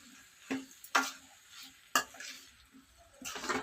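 Raw prawns frying in masala gravy with little oil on medium heat, stirred in several sharp scraping strokes over a soft sizzle, close and alone.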